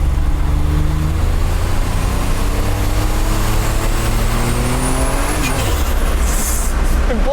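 A 1987 Buick T-Type car revs hard and accelerates, engine tone climbing steadily before dropping as it shifts out of first gear, loud and close with constant road and engine roar throughout.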